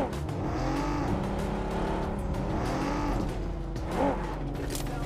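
A car in a video game set at an ancient temple drives off, engine revving and shifting pitch in a steady loud drone with a brief louder surge near the end.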